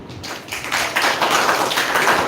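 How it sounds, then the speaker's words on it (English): Audience at a women's achievers felicitation event clapping for themselves, a dense burst of many hands applauding that swells after a soft start and holds steady and close throughout. "if you are a woman and a gentleman who have overcome challenges in your life, clap for yourself"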